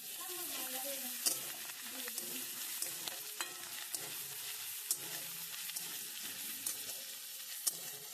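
Onions fry with salt in an oiled pan and are stirred with a spatula, a continuous low sizzle broken by sharp scraping clicks of the utensil against the pan at irregular intervals, close and fairly quiet.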